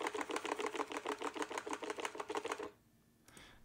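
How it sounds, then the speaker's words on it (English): Stock batteries rattle inside the channel of an HHKB Studio keyboard, a quick, even series of about fifteen close clicking knocks that stop abruptly, followed by near silence and one faint later tap. "Those were the batteries moving up and down inside of this channel."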